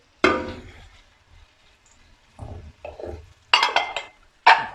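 Cabbage and other vegetables tossed in a hot pan, heard as scattered close bursts of scraping and clattering from a spatula against metal, separated by near-silent gaps, with no one talking.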